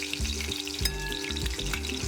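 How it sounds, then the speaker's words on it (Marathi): Garlic cloves fry in oil with cumin and mustard seeds, making a constant close sizzle broken by rhythmic low thumps, probably stirring against the pan, with no voices. "त्यामध्ये आपण लसूण पाकळ्या घालून घेऊया"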